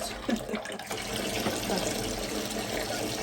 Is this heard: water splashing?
yes